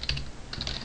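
Keys clack briefly on a computer keyboard while writing Java code, a couple of quick close taps.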